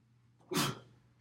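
A single short, sharp sneeze bursts out in a quiet classroom, with a faint intake of breath just before it.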